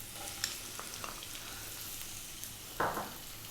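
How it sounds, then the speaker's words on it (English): Garlic, ginger and onion hit hot sunflower oil over high heat, giving a soft steady sizzle with a few light clatters and a sharper burst of frying near the end. "We're going to drop in our garlic and ginger. We're going to drop in our onion."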